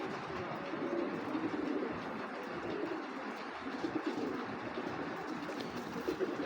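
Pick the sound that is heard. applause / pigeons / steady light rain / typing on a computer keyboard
pigeons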